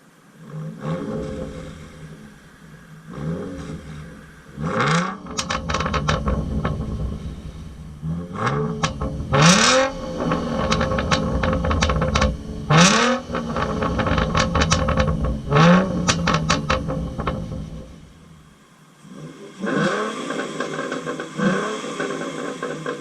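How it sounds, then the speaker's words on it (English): Black Transformers Edition Ford Mustang with a Roush exhaust, revved several times up close: loud rising and falling blips rumble over a steady idle, with no talking. "I did already buy the car with the Roush exhaust, which you will hear in a moment"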